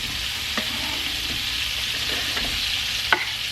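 A generous amount of butter sizzling in a 12-inch stainless steel five-ply pan, a steady close frying hiss with a few light clicks and taps of a utensil near the end.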